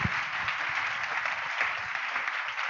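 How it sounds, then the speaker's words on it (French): An audience at a church sermon applauds steadily, a dense even wash of clapping filling the whole moment without pause. "est-ce qu'on peut les acclamer?"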